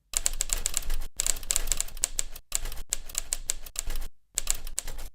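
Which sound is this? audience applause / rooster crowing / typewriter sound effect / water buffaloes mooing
typewriter sound effect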